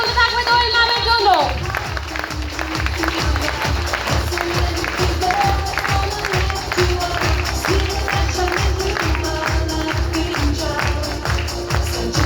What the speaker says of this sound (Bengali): জোরদার হাততালি চলতে থাকবে দোয়েল ম্যামের জন্য।